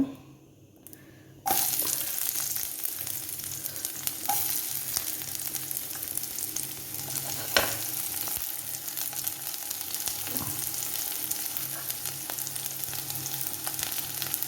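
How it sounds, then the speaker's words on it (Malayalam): Oil sizzles steadily as shallots fry in a pan after mustard seeds have popped, with occasional scrapes and clinks of stirring throughout. "ഒന്ന് ഇളക്കി കൊടുക്കാം. കൊച്ചുള്ളി മൂത്ത് വന്നിട്ടുണ്ട്."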